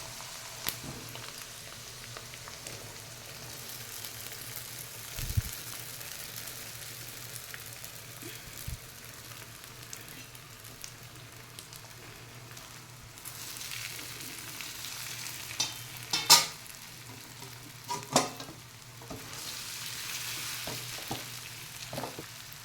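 Sabudana khichdi being stirred and mixed in a pan, a soft continuous sizzle with occasional spoon scrapes and clinks, fairly quiet throughout.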